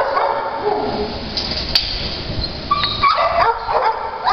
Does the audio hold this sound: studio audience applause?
no